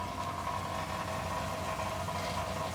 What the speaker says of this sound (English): you can hear that annoying rattle that we've been trying to get rid of